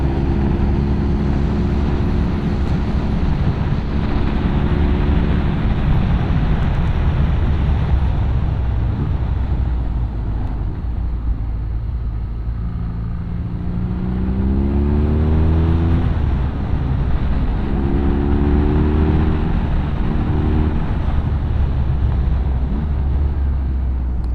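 A 2021 BMW R nineT motorcycle pulls hard in sixth gear, its engine a steady loud drone that rises in pitch over smooth roads, with wind rushing across the microphone throughout.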